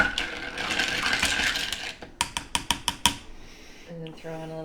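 A spoon stirs a cocktail in a glass, giving a quick burst of about six bright clinks against the glass, close, with a soft voice briefly underneath.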